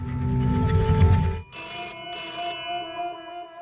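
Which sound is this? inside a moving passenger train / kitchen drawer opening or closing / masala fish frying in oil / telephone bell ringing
telephone bell ringing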